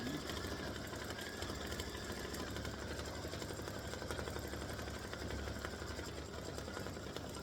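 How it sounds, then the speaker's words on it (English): A sewing machine stitching an appliqué word in orange thread, a continuous faint buzzing hum with a steady rapid motor rhythm that runs throughout without pause. "I've put in my orange thread and I'm going to stitch gobble now"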